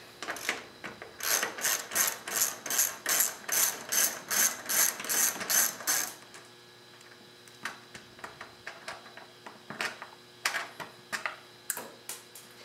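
Hand ratchet removing a bolt from the fairing of a 2009 Kawasaki KLR motorcycle, clicking in a steady rapid rhythm of repeated strokes, then a few scattered clicks and handling noises, close and fairly quiet.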